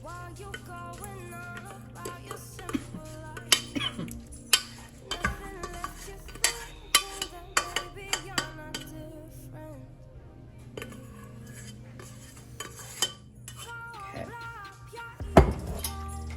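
Tortellini and cheese sauce are spread in a greased 9x13 casserole dish, with soft scraping, stirring and sharp utensil clinks against the dish, irregular and close, under faint background music.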